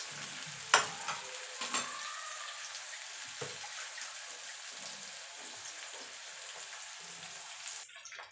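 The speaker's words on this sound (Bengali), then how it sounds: "পেঁয়াজটাকে একটুখানি ভাজা ভাজা করে নেব" Onion frying in a pan for a prawn and kochur loti dish, a steady soft broadband sizzle with a few sharp clinks of a spatula stirring early on, no talk.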